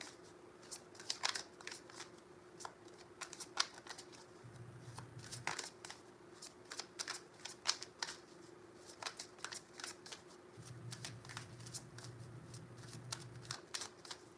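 Tarot cards being shuffled and drawn by hand during a reading, a steady run of crisp riffling flutters and papery slaps repeating across the whole stretch, close and fairly quiet, with no talking.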